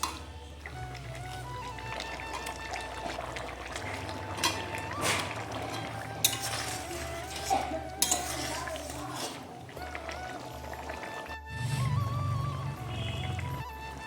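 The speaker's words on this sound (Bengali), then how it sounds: "এর মধ্যে আমি ভেজে রাখা মাছগুলো দিয়ে দেবো এখন" Fried fish pieces going into a simmering fish curry with long-bean seeds and potato, with clinks and scrapes of a utensil against the pot and gentle stirring, close and moderately loud.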